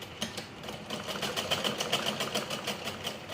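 An electric sewing machine runs a steady double line of stitching along joined blouse strips, a continuous close whirring hum with a fast mechanical rattle throughout.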